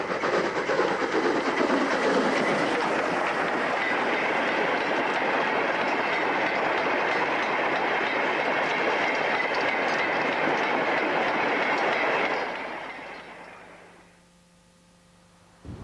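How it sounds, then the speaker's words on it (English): An ex-Great Eastern Class N7 steam locomotive departs from Yarwell on the Nene Valley Railway with a train, a loud sustained rushing and rumbling roar with hiss that holds steady, then fades away after about twelve seconds. "ex-Great Eastern Class N7 departing from Yarwell on the 30th of April 1993"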